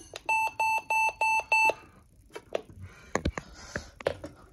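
A bright electronic Emergency Alert System test alarm beeps in six even pulses, then stops, followed by scattered clicks and small knocks nearby.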